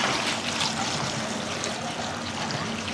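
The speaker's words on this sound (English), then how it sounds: "I'm gonna go ahead and add 3 gallons of water for this" Three gallons of water pour steadily from close by over mushrooms in a roaster being filled for mushroom broth, a continuous splashing trickle with no talk.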